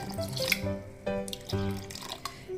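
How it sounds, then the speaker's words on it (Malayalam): Cold water is poured into a raw mango and curd drink before it goes into the mixer, a steady trickling pour lasting a couple of seconds with no talking. "ഇനി പാകത്തിന് തണുത്ത വെള്ളം ഒഴിച്ച് ഒന്ന് അടിച്ചെടുക്കാം മിക്സിയിൽ"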